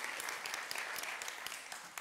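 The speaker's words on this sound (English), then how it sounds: "let's give ourselves a round of applause for that" An audience claps in a continuous burst of applause, dense and even, with occasional sharper individual claps on top.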